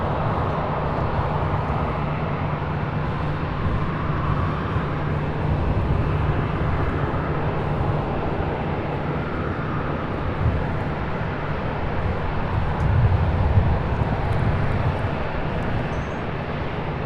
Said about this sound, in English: We have the Delta SkyTeam livery 737 pushing back